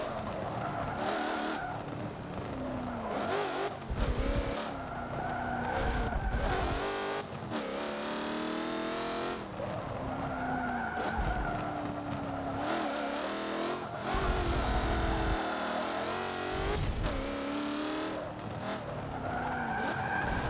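A race car in Forza Motorsport 7 video game, a loud continuous engine drone rising and falling with gear changes, overlaid by repeated tire skids and squeals.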